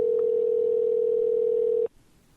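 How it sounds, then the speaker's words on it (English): A telephone dial tone hums as one steady, loud tone for nearly two seconds while a call is placed, then cuts off abruptly to near quiet. "let's get Eric on the phone."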